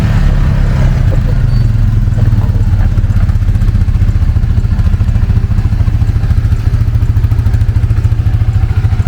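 A 2003 Suzuki Eiger 400 ATV engine runs steadily as the quad rides off, a loud, close, continuous mid-pitched rumble with some rattling clatter and no talk over it.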